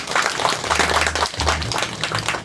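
Audience applause during introductions at a Korean community event, brisk clapping from a modest crowd with a low hum beneath, fairly close and continuous for a couple of seconds.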